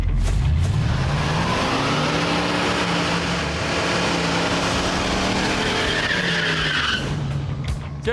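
Hurst Olds muscle car doing a burnout to heat its tires, with loud, sustained tire squeal and skidding layered over a roaring, revving engine that rises and holds for about seven seconds before easing off.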